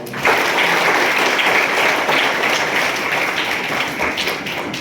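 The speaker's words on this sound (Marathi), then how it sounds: "सर्वांनी या भगिनीसाठी टाळ्या वाजवायच्या." Audience applause at a lecture on the life of Shivaji Maharaj, a dense, loud burst of many hands clapping that holds steady for several seconds and then slowly thins out, with no voices over it.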